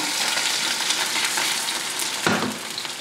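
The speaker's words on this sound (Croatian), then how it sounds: "ostavimo da se zapeče iz druge strane" Steady, bright sizzling of an egg frying in a hot pan, close and loud, with a brief clatter near the end.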